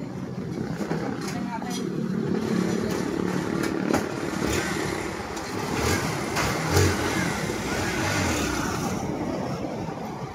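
Bajaj Pulsar NS160 FI motorcycle engine running during a test drive, a rough buzzing drone that rises and falls with throttle, mixed with wind noise and occasional talking.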